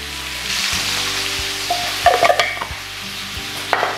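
Pork browns in a pan with two bay leaves for Portuguese bifana, making a continuous close sizzle with scraping stirs and a few sharp clinks of a utensil against the pan.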